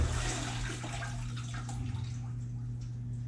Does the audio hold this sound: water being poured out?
yes